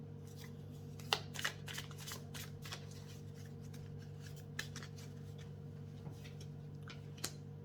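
A tarot card is drawn from the deck, making soft papery flicks and light card slaps. They sound quiet and close, scattered over a steady low hum, with no talking.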